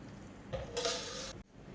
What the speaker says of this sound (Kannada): ಅರ್ಧ ಗಂಟೆಯಷ್ಟು ಇಟ್ಟ ಬಾಸ್ಮತಿ ರೈಸನ್ನು ಸೇರಿಸ್ಕೊಳ್ಳೋಣ